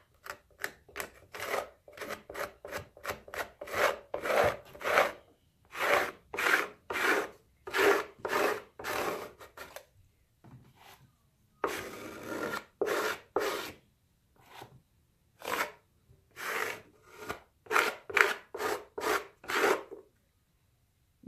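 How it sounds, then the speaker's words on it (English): A card scrapes excess mortar off miniature dollhouse bricks in quick rhythmic strokes, a dry rasping rub repeated in close bursts with brief pauses between. "you want to take your card and you want to go with the brick. And scrape off any excess onto your bowl"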